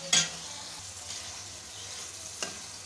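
Guar beans being stirred into fried qeema masala in a hot pan, a constant sizzle with a sharp scrape of the spoon at the start and another near the end.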